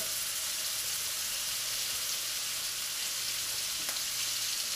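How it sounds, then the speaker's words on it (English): Beef seared in a hot pan to seal only the outer rim for carpaccio, giving a steady, even sizzle and hiss that holds without a break for the whole stretch, with no talking. "we're looking to just cook the outer rim of the beef. All we're doing is sealing it down."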